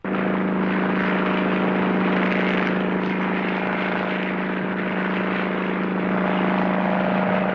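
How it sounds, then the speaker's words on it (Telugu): Propeller aircraft drone with a steady buzzing hum, loud and continuous throughout with no talk. "మీరెప్పుడైనా ఈ విమానం ఎక్కినారా?"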